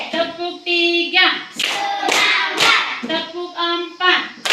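Classroom of children clapping hands in rhythm, several sharp broadband clap bursts over sustained children's chanting voices that carry throughout.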